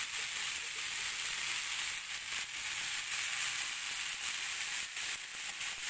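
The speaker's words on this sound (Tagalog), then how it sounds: "Iprito ko muna ito na para mag-brown lang siya." Tortang batong buhay fries in hot oil until brown, a dense, steady sizzle and crackle filling the whole stretch with no talking.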